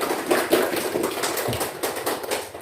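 A seventh-grade classroom breaks into dense, crackling applause from many hands, loud and close, lasting a few seconds.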